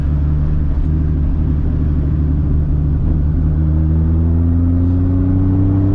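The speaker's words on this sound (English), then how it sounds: "Like literally it's just taking off from a stop." A 1000+ horsepower MK4 Toyota Supra pulls away from a stop, its engine a loud, steady low rumble that rises gradually in pitch as it accelerates, with no voices over it.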